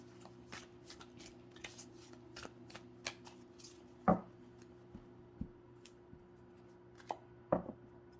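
Tarot cards being shuffled in a quiet room: a run of soft, rapid riffling flutters with a few sharper taps and slaps as the deck is squared, close and fairly faint.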